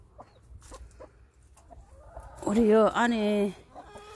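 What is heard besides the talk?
chicken clucking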